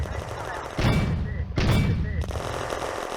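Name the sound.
mortar (Granatwerfer) firing in video game Firefight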